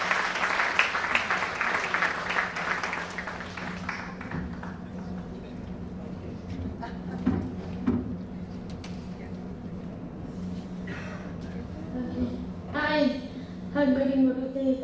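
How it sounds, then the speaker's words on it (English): Audience applause for Nupur at a felicitation event, a broad wash of clapping loudest in the first few seconds and then thinning out, with scattered claps and voices continuing underneath. "Can we have a huge round of applause for Nupur?"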